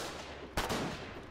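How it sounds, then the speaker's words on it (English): Artillery fire in the War 88 video game: one sudden boom lands partway through, with a short rumbling tail over a steady background. "Where's that artillery going?"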